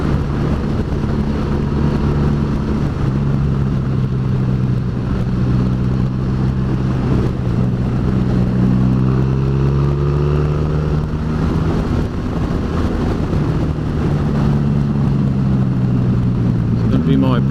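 A Honda VFR1200X motorcycle rides along a road, its engine giving a steady, loud drone with rising and falling pitch as it changes speed, heard throughout under wind noise.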